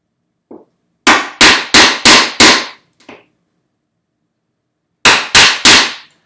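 A chisel is struck hard to chop waste out of a dado in bookcase joinery: five loud, sharp close blows in quick succession, a lighter tap, a pause, then three more ringing strikes.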